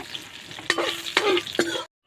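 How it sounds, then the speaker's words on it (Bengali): Dried red chillies and bay leaves fry in hot oil in a home kitchen while a spatula stirs them. Three quick scraping strokes ride over a soft, close sizzle, then everything cuts to silence. "শুকনো লঙ্কা আর তেজপাতা ভালো করে আমি ভেজে নেব"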